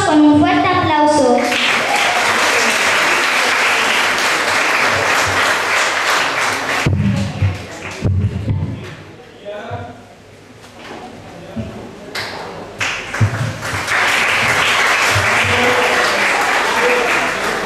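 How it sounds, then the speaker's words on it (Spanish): Strong applause from families at a school end-of-year ceremony, loud at first, thinning to scattered claps and murmured voices midway, then swelling back to full clapping toward the end. "Vamos a recibirlos con un fuerte aplauso."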